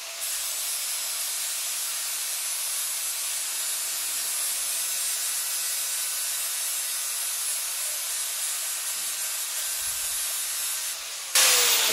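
Steady, dense rasping hiss of sandpaper worked by hand over a metal fishtail dent-repair tool, continuous and close, ending in a brief louder scrape.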